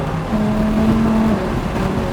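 Lamborghini Huracán on the Pacific Raceways track pulls uphill under light throttle, a steady engine drone with a rising tonal whine, close and fairly loud without talk.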